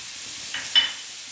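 Onion, green chilli and tomato frying in a pan for egg tadka give a soft, steady sizzle with a couple of brief stirring scrapes, quiet and close with no talk.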